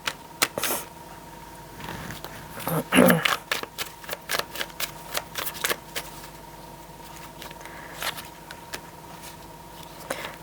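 Tarot cards are handled and shuffled in a reading, giving a run of quick close riffling and snapping flicks, with one louder burst of shuffling early on and soft rustles between.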